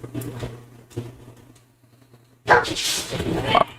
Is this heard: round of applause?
no